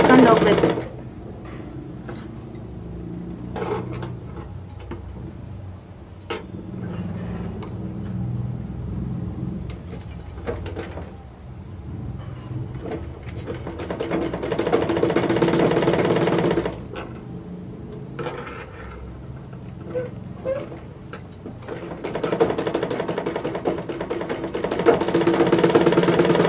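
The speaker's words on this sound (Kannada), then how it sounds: "ಹಿಂಗೆ ಹೊಲಿತಾ ಹೊಲಿತಾನೆ ಇಟ್ಕೊಂಡು ಎರಡನ್ನು ಜೋಡಿಸ್ಕೊಂಡು ಜೋಡಿಸ್ಕೊಂಡು ಹೋಗ್ಬೇಕು" A sewing machine whirs in repeated bursts and pauses while stitching a blouse sleeve, with a voice talking over and between the runs.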